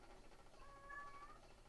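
A house cat meows once in a quiet room, a faint, drawn-out rising and falling cry with no talk over it.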